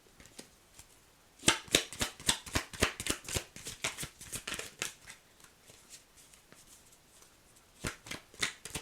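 Tarot cards shuffled by hand and then drawn one at a time during a reading. The sound is a close series of crisp riffling snaps, a dense burst at first and then sparser, with a few more flicks near the end.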